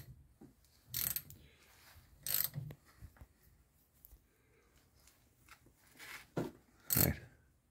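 A socket ratchet tightening brake bolts on a TVR Griffith race car, with several short bursts of close clicking separated by quiet pauses in a workshop.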